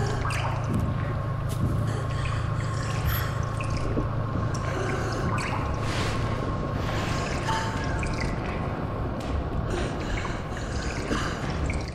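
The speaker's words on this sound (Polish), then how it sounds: "I leci kapać woda." Water drips steadily inside the horror video game Among The Sleep, a continuous wet trickle under a low steady hum, moderately loud and unbroken, with no voices over it.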